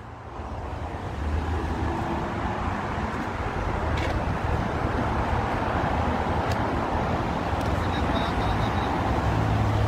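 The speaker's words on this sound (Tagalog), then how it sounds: "Ang lakas ng hangin." Strong gusting wind at an outdoor event in The Hague roars across the microphone for the whole stretch, a steady loud rush with low rumble and faint traffic-like noise beneath, and some indistinct voices in the background.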